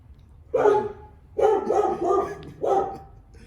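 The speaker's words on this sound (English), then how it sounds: "everybody's dog's barking right now" Dogs barking around a neighborhood, three loud bursts of repeated barks with short pauses between them, fairly close and with no talk over them.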